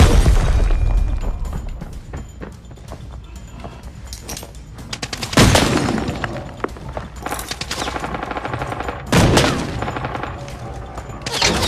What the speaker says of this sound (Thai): อุ้ยระเบิด